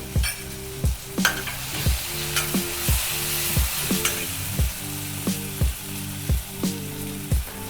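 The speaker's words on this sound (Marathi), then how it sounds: "आता मी थोडीशी फोडणीमध्ये कोथिंबीर टाकते" Coriander leaves hitting a tempering of hot oil with cooked tomato for a black ghevda bean dish, sizzling loudly with a steady, rhythmic stir and spatula taps against the pan about once a second, close and with no talk.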